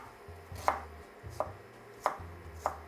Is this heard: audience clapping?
no